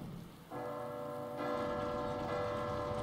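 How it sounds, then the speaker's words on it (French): A bell rung in the video game Resident Evil 2, a sustained metallic tone that starts abruptly and swells louder about a second later, ringing out over a soft, rain-like background hiss. "Allez, sonne la cloche."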